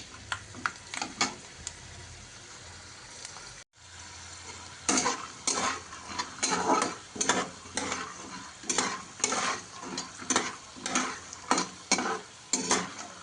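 Something sizzles gently in a pan over low heat for upma, with a brief pause and then a run of rhythmic, repeated stirring scrapes, close and clear.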